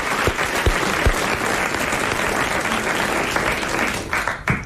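Loud applause from a French television studio audience, dense continuous clapping throughout that thins slightly near the end.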